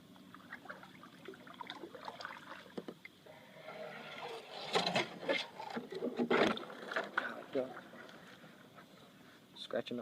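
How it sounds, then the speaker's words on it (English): A DIY seat rubs and scrapes against a kayak hull in uneven, scratchy bursts, close and fairly faint, while someone speaks over the sound. "Scratching up my kayak."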